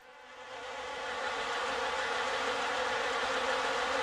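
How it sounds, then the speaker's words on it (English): A dense swarm of wasps buzzes as it rises from flowers in a game's sound effect, a continuous droning hum that swells in the first second and then holds steady, with no other sounds. "Wasps, lots of wasps flew up and out of the flowers here"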